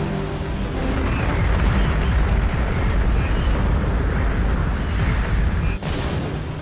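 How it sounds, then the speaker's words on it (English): Spaceship weapons fire and explosions as a Wraith hive ship returns fire on Atlantis in a space battle: a loud, continuous wall of rumbling blasts and booms sustained throughout, with a brief sharp dropout near the end. "Sir, the Hive is returning fire."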